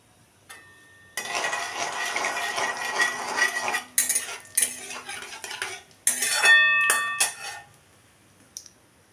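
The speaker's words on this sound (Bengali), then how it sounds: "এখানে আমি কালো জিরে দিয়ে দিলাম" Nigella seeds dropped into hot mustard oil in a pan, crackling and spitting in bursts alongside metallic clinks and scrapes of a spoon, starting after a short quiet moment and stopping and restarting a few times.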